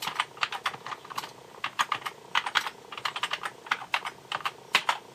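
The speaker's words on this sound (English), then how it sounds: "Just type in my username and password." Someone types a username and password on a computer keyboard, with quick irregular bursts of clicking keystrokes, close and clear, and no talking.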